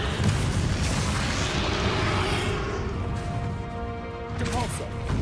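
The Bombarda blasting spell in Hogwarts Legacy goes off in a heavy, crashing rumble that rolls on for several seconds, then thins into tonal game sounds as a voice chimes in.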